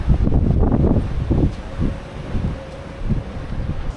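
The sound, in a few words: wind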